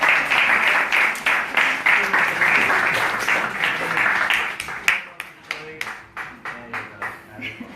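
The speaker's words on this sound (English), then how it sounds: "So let's give Kishori a big round of applause as well." Audience applause at a Sunday gathering of the ISKCON temple community in Newcastle, steady clapping that thins toward the end into scattered individual claps, with faint voices and chatter mixed in.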